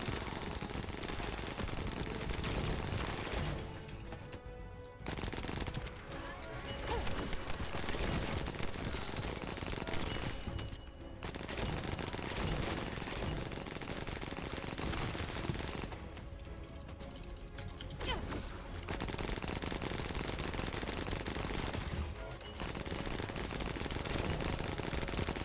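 Sustained weapon fire in The First Descendant: rapid, dense automatic shooting runs almost without break for about twenty-five seconds, with only a few brief pauses.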